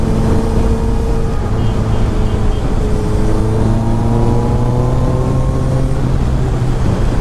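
Honda CBR 650R sport motorcycle with an aftermarket exhaust runs with a steady, loud engine drone throughout, harmonic tones shifting slightly as revs change, heard close with no voices.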